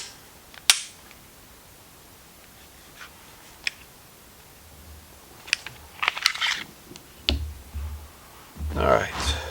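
A third-generation Glock Model 22 pistol is handled for cleaning, producing sparse sharp metallic clicks and taps with quiet gaps and some rustling handling noise near the end.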